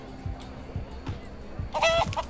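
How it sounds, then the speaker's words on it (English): Blocky chicken clucking in the Minecraft Story Mode video game, a few short clucks and a brief squawky burst near the end, moderately loud over a steady background of game ambience. "Chicken!"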